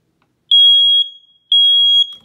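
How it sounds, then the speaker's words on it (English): A smoke detector being test-pressed during building maintenance sounds two loud, piercing electronic beeps, each about half a second long and evenly spaced, followed by silence. "And then we have our smoke detector"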